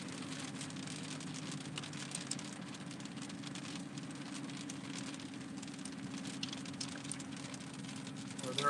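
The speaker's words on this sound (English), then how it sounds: "Damn, the rain's coming down now." Steady rain patters on a surface with a continuous low rumble underneath, like rain heard from inside a moving vehicle.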